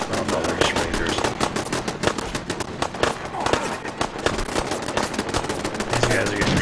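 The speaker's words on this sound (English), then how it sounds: "What are you guys shooting at?" Fallout 4 survival firefight against raiders, dense rapid machine-gun and rifle fire rattling almost continuously, loud and close, with someone talking under the shooting.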